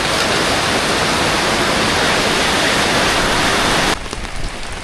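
Rain falls hard and close in a rural Thai setting, a loud continuous hiss that drops off slightly near the end, with no talking.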